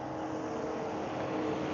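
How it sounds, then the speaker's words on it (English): A loud Mercedes car drives past on a tree-lined road, giving a steady, broad engine and road roar that holds at a constant level through the whole moment, with no voices. "That Mercedes is loud."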